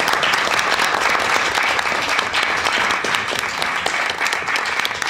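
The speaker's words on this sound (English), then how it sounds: "he deserves a round of applause" Sustained, dense applause rises from the audience at a joint planning and city council meeting. It holds steady and fairly loud from start to finish with no speech.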